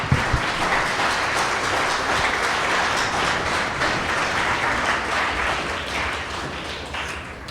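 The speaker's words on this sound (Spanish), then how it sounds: "Un fuerte aplauso, por favor." An audience at a lecture hall applauds a lecturer with a sustained, dense burst of clapping that stays strong and then eases slightly toward the end, with no speech.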